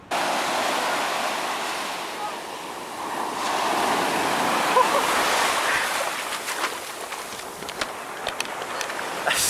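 Ocean waves washing onto the shore in Los Angeles, a steady loud rush of surf with wind buffeting the microphone throughout.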